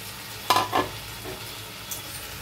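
Potatoes tipped into hot masala that has released its oil, with a splash of water, for a soya curry: two sharp sizzling bursts close by, then a low steady frying hiss.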